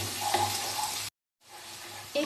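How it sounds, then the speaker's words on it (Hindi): Chopped capsicum and carrots frying in a pan, a close hissing sizzle with a stirring clink, cut by a brief silent gap before the sizzle resumes. "1 मिनट हो चुका है इसे फ्राई करते हुए कैप्सिकम और कैरेट को।"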